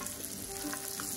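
Pecans cook in sugar and butter in a pan, a steady close sizzle and frying hiss with faint stirring, continuous and alone.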